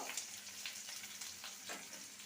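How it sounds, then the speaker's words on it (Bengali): Chopped onion fries in a pan with a steady, quiet sizzle and crackle, broken by a few soft stirring scrapes, heard alone and fairly faint. "পেঁয়াজটাকে ভেজে নেব"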